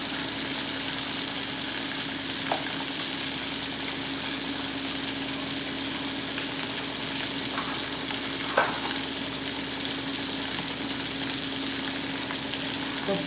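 Dried fish frying in hot oil in a pan, giving a steady, continuous sizzle and crackle throughout with a few soft clicks, with no talking.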